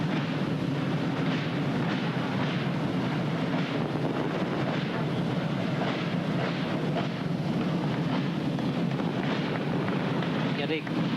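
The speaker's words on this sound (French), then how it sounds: "Le feu d'artifice bleu, blanc, rouge au-dessus de l'Arc de Triomphe et tout le long des Champs-Élysées." Blue, white and red fireworks burst over the Arc de Triomphe and along the Champs-Élysées during the 14 July 1989 bicentennial celebration in Paris, with snow falling. A dense, continuous rumble of distant bangs and crowd wash runs steadily and loudly throughout.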